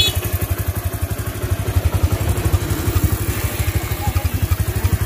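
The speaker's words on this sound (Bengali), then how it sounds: "তো বন্ধুরা গাড়িটি আমি আসলে স্টার্ট করেছি" A Bajaj Platina 100 motorcycle engine idling up close, a loud, steady rapid thumping putter with a faint metallic clatter, continuous and even throughout.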